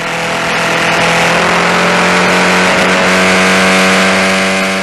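Historic Formula Ford 2000 single-seaters race past on the straight at Brands Hatch, running nose to tail. Their engines hold a loud, sustained, rising roar with no voices.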